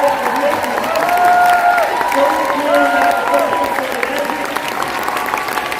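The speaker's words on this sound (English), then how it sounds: "So let's all give a round of applause" A round of applause with cheering at the 2023 Enagic 49th anniversary global convention, steady crowd clapping under loud music and voices across the whole stretch.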